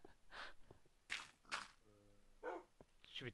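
A dog barking in the video game Minecraft, several short sharp barks in quick succession, fairly quiet, with a brief tonal sound between them.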